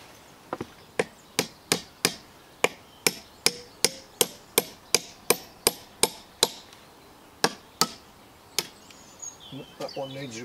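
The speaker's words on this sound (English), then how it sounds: "Let's get the hammer out." Sharp hammer strikes on a nail ring out in a steady run of about twenty blows, close and loud, pausing near the end before faint movement follows.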